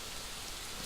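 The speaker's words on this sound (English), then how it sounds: "is it raining, or I hear some rain sounds?" Rain in the Mortal Online game falls as a soft, steady hiss, faint and unbroken, with no other sound.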